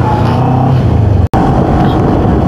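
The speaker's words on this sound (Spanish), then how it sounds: "Vamos a ver cómo responde la motocicleta subiendo" A motorcycle engine drones steadily and loud while the rider climbs uphill, with a brief cutout midway before the engine note resumes at a similar level.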